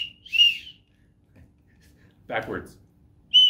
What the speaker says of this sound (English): and of course a whistle out of a buffalo horn.